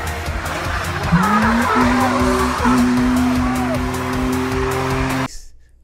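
A Toyota GT86 drifts with tires squealing in a long, loud, rising screech over a roaring engine. The squeal holds steady for several seconds, then cuts off abruptly.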